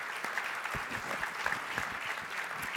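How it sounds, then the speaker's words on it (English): An audience at a winter meeting plenary session claps for a panel of speakers, a soft, even patter of many hands heard from a distance, continuous and without voices. "Can you give our panelists a round of applause?"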